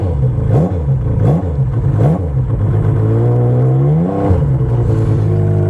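A 2010 Yamaha Nytro MTX snowmobile engine, tuned for mountain elevation, blips up sharply three times, then climbs into a sustained rising rev and settles. It is loud and close, with no talk.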